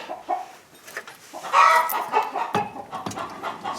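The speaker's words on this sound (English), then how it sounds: "Don't mind the chickens in the background." Chickens cluck repeatedly nearby, a busy run of short, overlapping calls with no talking.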